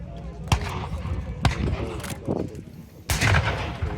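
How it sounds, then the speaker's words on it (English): Heavy artillery and mortar fire at a WW2 re-enactment in Yorkshire: four loud, booming blasts at irregular intervals, each with a rumbling tail, over a constant background of outdoor noise. "the Allied artillery is now beginning to pound the German positions and trenches."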